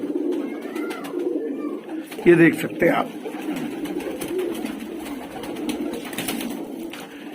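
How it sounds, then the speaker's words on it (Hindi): Pigeons at a pigeon market, including Madrasi breeds, coo in low repeated throaty calls close by, with someone talking over them and a brief burst of louder cooing or fluttering partway through. "मद्रासी भी सुपर क्वालिटी के काफी अच्छे कबूतर आए हुए हैं"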